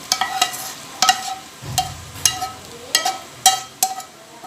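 Dried red chillies, garlic and tomatoes fry in a pan for pudina chutney, with a spatula clinking against the metal about once a second over a soft, steady sizzle, close by and with no talking.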